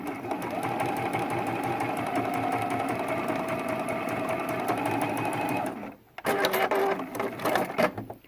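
A sewing machine stitching a quilt block runs in a fast, steady rhythmic whir for about six seconds, then stops abruptly, followed by a few clicks and handling noises close by.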